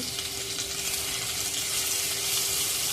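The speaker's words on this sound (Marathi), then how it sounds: "हे सर्व परतून घेऊया एक मिरची" Green chili, ginger-garlic paste and spices sauté in hot oil in a pan for a mixed fish curry with Agri spices, a close, steady sizzle with light crackling and no talk.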